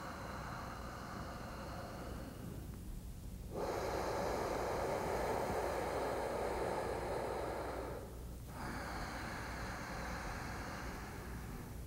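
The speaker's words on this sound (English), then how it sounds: "we want to create a deep, full, resonant sound in the back of the throat" A long, deep ujjayi breath drawn through a constricted throat, a steady rushing hiss lasting several seconds, close up, bracketed by softer ocean-like breathing before and after.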